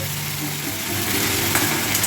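A steady, loud sizzle of vegetables frying in a pan, continuous hiss throughout with a faint low hum underneath.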